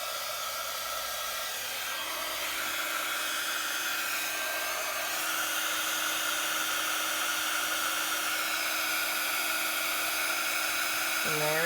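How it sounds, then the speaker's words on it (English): A heat gun melts embossing powder on a handmade monochrome card, giving a steady, close whining blow with an airy hiss that runs unbroken throughout, its pitch shifting slightly near the end. "I'm just going to get my heat gun, so it will be a little bit noisy, and we'll get that"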